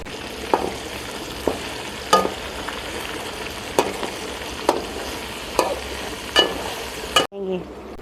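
Chicken karahi sizzles steadily in a pan while a spoon stirs it, giving a constant close frying hiss punctuated by regular scraping strokes about every second, ending with a sharp clatter.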